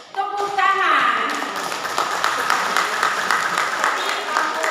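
A seated audience at the opening of a government education office's early-childhood and nonformal education syllabus workshop breaks into applause. The clapping swells in right after a short musical tone and continues steadily, dense and moderately near.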